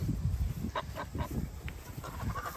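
Free-ranging farm geese honk in a loose series of short calls outdoors at moderate distance, with low rustling and background noise beneath and no talking.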